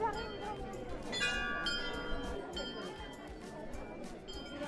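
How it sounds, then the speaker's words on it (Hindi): Many small bells chime and tinkle continuously across the Dhari Devi Hindu temple grounds in Uttarakhand, bright and layered at moderate distance, with crowd chatter and voices underneath. "माँ धारी देवी के पूरे मंदिर परिसर में छोटी छोटी घंटियाँ लगी हुई हैं।"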